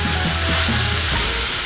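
Wild boar adobo sizzles steadily in a pan as it is stirred, a loud, continuous close frying hiss with soft scraping underneath and no voices.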